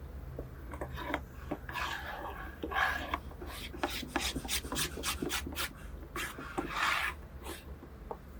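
Close, rhythmic scrubbing and rasping strokes work over raw silky oak timber on a 1930s Australian cabinet, with quick repeated rubs and a few longer swipes, fairly quiet and without speech.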